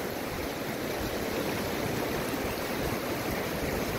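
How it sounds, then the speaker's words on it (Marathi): A small river flows near hotels past Khardung La pass in Ladakh, producing a steady, even rush of water that fills the scene with no voices. "हा छोटीशी नदी वाहते या ठिकाणाहून"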